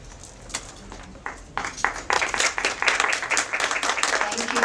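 A crowd applauds at a realtors' council officer installation, starting with scattered claps that swell into dense, loud hand-clapping. Voices are audible at the start.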